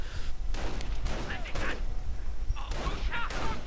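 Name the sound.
gunfire in a World War II strategy video game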